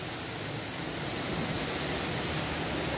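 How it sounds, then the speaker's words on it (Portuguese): The Macacu river flowing near a waterfall, a dense, steady broadband rush of water that fills the whole clip evenly and loudly without any break or voice. "Mostrar um pedacinho do percurso do rio."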